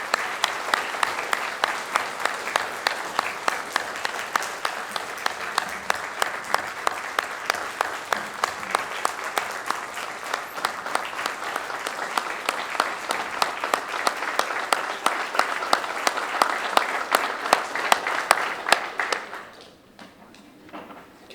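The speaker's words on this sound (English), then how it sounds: "Let's give Mr. Cross a big round of applause." A graduation audience at York River Academy applauds principal Mr. Cross in a steady, dense round of clapping lasting about nineteen seconds, then trailing off quickly into near silence.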